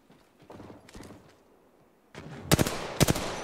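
Gunfire in the video game Apex Legends, a faint muffled burst first, then two sharp, loud close bursts of rapid shots near the end, with no talking.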